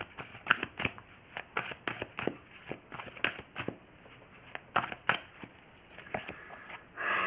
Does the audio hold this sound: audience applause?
no